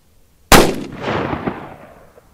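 A single loud gunshot from a .357 Magnum firing Fiocchi 125-grain XTP rounds into ballistic gel, a sharp blast followed by a long decaying echo, with no talking.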